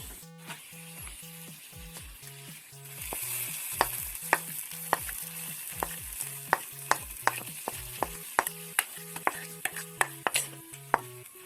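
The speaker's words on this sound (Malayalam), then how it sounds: "ഇനി നമുക്കത് നമ്മുടെ കറിയിലേക്ക് ആഡ് ചെയ്ത് കൊടുക്കാം." A hot tempering is poured into Irumbanpuli curry and sizzles into a loud hiss midway, followed by regular spoon taps while stirring, over steady background music.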